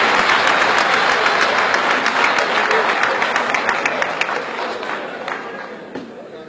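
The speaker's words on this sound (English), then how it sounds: "give themselves a round of applause" An audience of officers in a room breaks into loud, sustained applause, dense clapping that holds steady and then slowly thins out toward the end.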